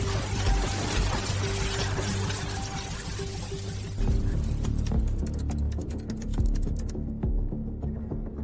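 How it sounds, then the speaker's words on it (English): Water pours and splashes in a steady broadband rush over a cold shower thrown at someone, with heavier gushes partway through, before thinning into scattered drips and trickles that fade out at the end. "Splash water at minus 60 degrees"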